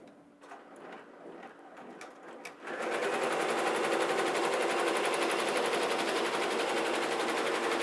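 An embroidery machine stitching a shirt starts after a few soft clicks and handling noises, then settles into a loud, steady, fast mechanical whir with rapid needle ticking that runs to the end.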